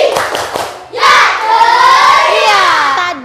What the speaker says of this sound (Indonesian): coba tepuk ceria dulu